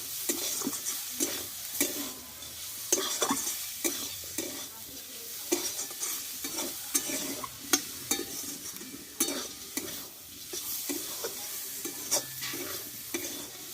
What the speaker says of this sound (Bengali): আবারও কিছুক্ষণের জন্য আমি ভেজে নেব শাকটা